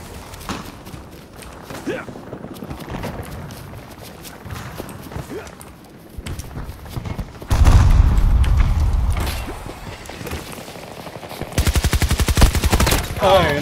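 Battlefield combat: a grenade blast makes a heavy, loud boom mid-clip amid repeated gunshots and a late rapid burst of automatic fire, with shouted voices and chatter throughout.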